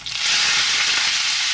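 Wet noodles hit hot oil in a pan, swelling within a moment into a loud, dense, close sizzle that holds steady to the end.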